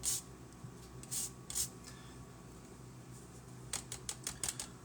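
A lemon scraped against a zester gives short, faint rasping strokes, a few separate passes early and then a quicker run of scrapes near the end, over a quiet kitchen hum.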